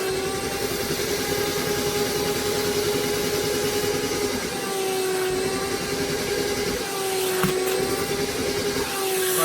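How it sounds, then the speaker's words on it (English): A DIY wet vacuum extractor roars continuously with a high, steady whine, its pitch dipping slightly as it sucks up water. "This vacuum is so powerful, it almost gets all the water out every time."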